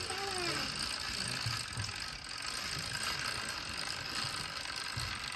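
Wooden cam mechanism of an Edo-era karakuri tea-serving doll running steadily, a continuous close mechanical whirring and ratcheting with soft irregular clicks throughout.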